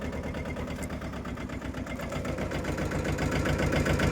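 A tractor engine idles on a farm plot where groundnut crops are grown, a steady low rumbling throb with mechanical knocking that holds throughout and grows slightly louder toward the end, with no talk over it.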